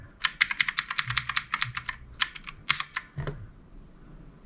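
Quick typing on a DurGod K320 or PICTEK mechanical keyboard: crisp, close clacking keystrokes in fast bursts with a few heavier thocks and brief pauses, no talk.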